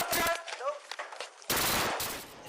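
Gunfire during a police shootout in a doorway, caught on a body camera: sharp bursts of loud shots, with shouting voices in the middle and a dense stretch of noise near the end.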